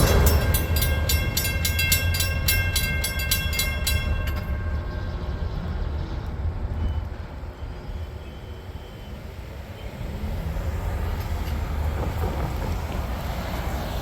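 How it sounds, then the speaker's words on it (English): A long Norfolk Southern freight train on the D&H line rumbles past continuously, with rhythmic clanking and screeching wheels early on, then a steady heavy rolling roar. "That's what you get with the long freight train."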